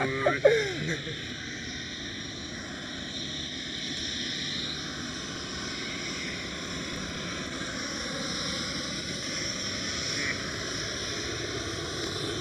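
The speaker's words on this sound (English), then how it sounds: "Austrian with a slow taxiing A320ceo." An Austrian Airlines Airbus A320ceo taxies slowly at Amsterdam Schiphol, a steady distant whine and rumble of jet engines at idle holding evenly throughout, with a brief clunk near the start.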